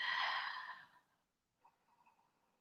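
A single long, airy exhale during a yoga session sounds close and soft, fading out over about a second, followed by a faint quiet inhale.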